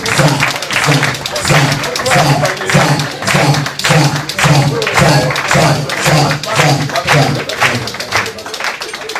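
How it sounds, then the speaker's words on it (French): Audience applause welcoming the day's guest of honour at an awards ceremony, a sustained run of clapping with sharp, tap-like hand strikes and thuds, fairly close and continuous throughout. "On applaudit."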